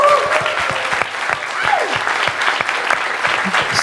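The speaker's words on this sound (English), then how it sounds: "a big round of applause for Reese, our MC." Audience applause at a hackathon closing ceremony in a university hall, a steady wash of many hands clapping close by with a few sharper individual claps and faint voices mixed in.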